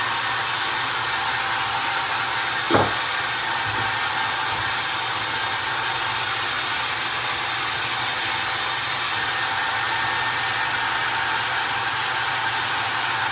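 A hair dryer blows on drying chippy paint over a Target cloche, giving a steady, close, continuous rushing whoosh that holds level throughout with no talk.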